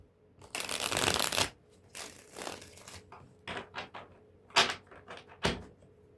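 Tarot cards are shuffled in several bursts of riffling and slapping, close and fairly quiet, with short pauses and a few sharp card taps between them and no voices.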